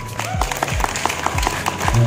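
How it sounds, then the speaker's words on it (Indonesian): Audience applause at a youth festival in South Sulawesi, moderate clapping with evenly spaced pulses over about two seconds, accompanied by low tonal sweeps. "Tepuk tangan dulu."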